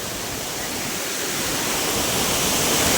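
Heavy water rushing hard during a cyclone, a dense, continuous broadband roar like a torrent or waterfall that swells slightly louder toward the end, close and steady with no voices.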